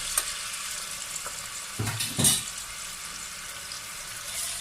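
Sliced large onion added to lightly heated oil and fried gently for aloo gosht, a soft continuous sizzle with a couple of brief clattering stirs near the middle.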